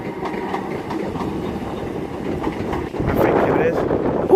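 A Class 319 electric train moves through Wigan North Western station on a windy day. Its low rumble and rolling wheel noise sit under wind buffeting, and the sound grows louder and closer toward the end.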